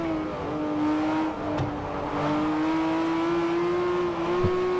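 Porsche 911 GT2 RS (997) engine in Forza Motorsport 4, a steady high-revving drone that climbs slightly in pitch, with a brief dip near the middle as the car upshifts during a spec-series race.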